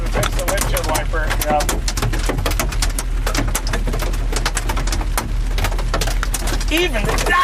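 Heavy hail hammers a storm-chasing vehicle in Texas, producing a constant, loud rattle of hard strikes on the body while people talk.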